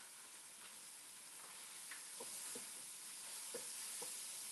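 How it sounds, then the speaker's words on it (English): Pinto beans with Mexican seasonings simmering in a pan with onion, garlic and tomato paste, a constant faint sizzling hiss with occasional soft pops and bubbles, no voices. "I'm gonna let that simmer for a minute with the onion and the garlic and the tomato paste."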